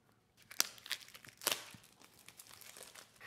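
A package holding a dice cup and shaker set is opened, paper fill material crinkling and rustling in several sharp, close bursts with quieter handling in between.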